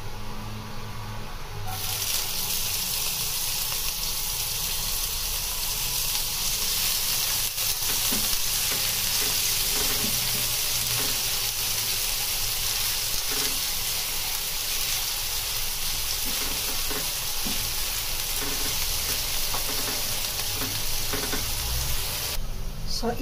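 Onion fries in a pan of browned garlic for a pork menudo, a loud, dense, unbroken sizzle filling the whole stretch close up, with faint hints of stirring.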